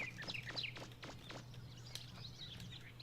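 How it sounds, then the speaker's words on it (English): Birds chirping in the video game MegaMan Legends, with a series of sharp, high tweets and calls over a steady low hum, layered with quick soft footstep-like taps. "These birds are so loud."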